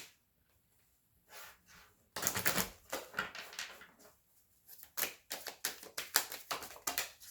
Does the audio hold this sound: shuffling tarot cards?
yes